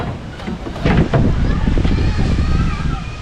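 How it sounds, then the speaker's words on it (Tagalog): Gusty wind buffets the microphone in loud rumbling bursts, with a voice briefly calling out over it. "Napaypay na ng hangin."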